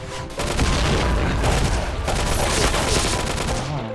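Rapid automatic gunfire bursts from the Point Blank first-person shooter game, dense and loud, firing almost continuously for several seconds after a brief quiet start.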